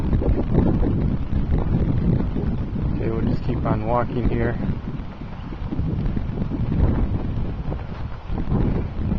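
Wind rumbles and buffets the microphone steadily outdoors in a tomato garden near sunset while someone speaks briefly partway through.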